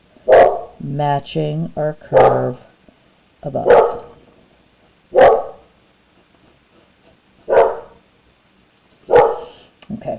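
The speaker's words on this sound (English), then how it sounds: "Excuse my dogs." Dogs bark in a quiet indoor room, a series of single loud barks spaced every second or two, with a few quick yips early on and a person speaking briefly at the start.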